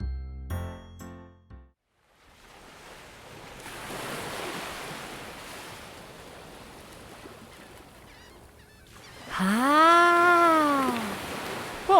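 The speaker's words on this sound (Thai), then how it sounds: "เราเดินทางมาถึงทะเลแล้ว โอ้ ว้า คลื่นแรงมาก ๆ เลย" Strong sea waves wash and roar in an audio-drama sound effect for children, a broad surging swell rising and easing after a few clipped musical tones, then giving way to a wavering synthesized sound.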